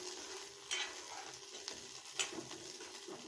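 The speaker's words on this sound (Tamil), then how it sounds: "இதை கொஞ்சமாக நல்லா வதக்கி வச்சுக்கலாம்" Curry ingredients being sautéed in a pan for a bean curry, a faint, steady sizzle broken by light spatula scrapes every second or so, nearby and without voices.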